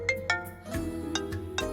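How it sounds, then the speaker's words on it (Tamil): A mobile phone ringtone for an incoming call plays alone, a short, bright electronic melody with quick repeated notes over a soft musical backing. "தினேஷ் தான் ஃபோன் பண்றான்."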